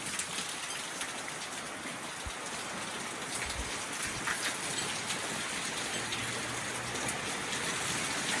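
Heavy rain driven by strong wind during a severe thunderstorm watch pours in a dense, steady hiss, with gusty low rumbles of wind buffeting underneath and no one talking.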